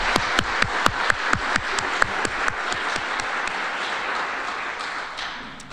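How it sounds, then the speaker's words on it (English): Conference audience at a preservation alliance event applauding its sponsors, a dense round of clapping with sharp individual claps standing out early, fading slightly toward the end. "Let's give one more round of applause for our sponsors"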